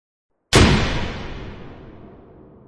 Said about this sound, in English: The fireworks ended with a bang.